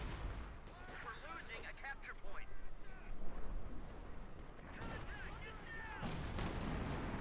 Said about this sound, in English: Another artillery barrage on the base.